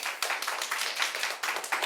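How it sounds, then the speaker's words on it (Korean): An audience at a leadership lecture claps in agreement, a modest, fairly thin round of distinct hand claps with audible individual strikes, somewhat quiet and unaccompanied by speech. "동의하시면 박수 한번 주시기 바랍니다"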